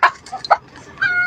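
A hen clucks in a few quick, loud, close calls, one short burst after another.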